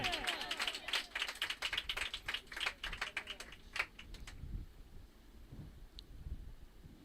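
A church congregation claps loudly in a dense burst of hand claps that fades out after a few seconds, followed by quiet murmur.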